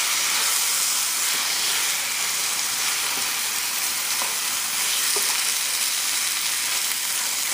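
Garlic-ginger marinade for a chicken curry sizzling in a hot pan, a loud, steady hiss with occasional soft clicks of stirring, no voices.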